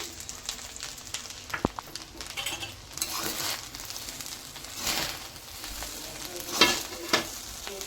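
Paneer fried rice sizzles in a hot pan as it is turned over and stirred, a continuous crackling hiss broken by scraping stirs and a few sharper clinks, with no talking.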